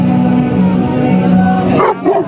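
Dogs in a fight, a loud close burst of barking and yelping that turns into higher whining yips near the end.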